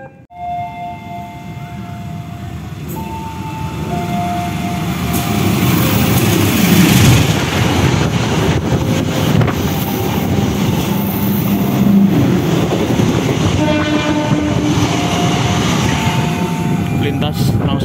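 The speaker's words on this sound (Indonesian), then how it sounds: "Ternyata hanyalah kereta peti kemas." A container freight train rolls past at close range in an Indonesian station yard, its loud steady rumble building and holding with wheel and rail noise, brief horn-like tones near the start and end.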